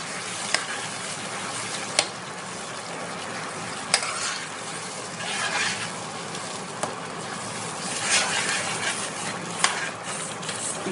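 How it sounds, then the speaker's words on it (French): Tomato, garlic, parsley and celery stirred in a frying pan give a dense, continuous sizzle, punctuated by sharp utensil taps against the pan every couple of seconds, close and fairly loud, with no voices. "Je remue encore."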